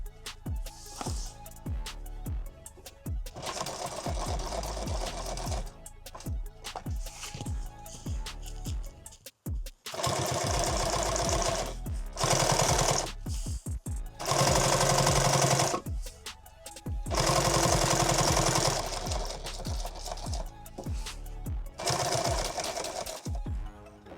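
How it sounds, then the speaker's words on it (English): A sewing machine stitches Velcro onto a pistol magazine pack in loud rapid bursts, several runs of fast mechanical chatter broken by short pauses and one brief stop. "This is just a guideline as to where I'm going to sew this Velcro on."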